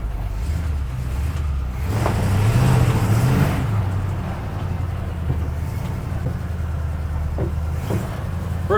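A 1953 GMC truck on its first drive, its engine droning steadily with a brief rise in revs partway through, heard from close by with no talk.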